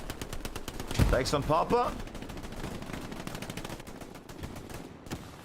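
Gunfire in the video game Hell Let Loose during an 18-versus-18 tournament: dense, steady rattling shots and bursts fill the whole clip, with a voice speaking over the battle noise.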